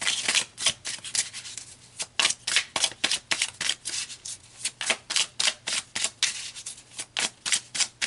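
Tarot cards being shuffled close up, a steady run of quick riffling bursts about twice a second with brief gaps between, no talking.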